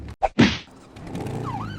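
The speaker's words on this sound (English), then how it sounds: "So the sirens actually sound different, which is awesome. There's unique sirens now for this bike." Police bike siren in GTA V Online, heard after a couple of sharp thwacks: a wailing tone that sweeps up and down, moderately loud, with no talk over it.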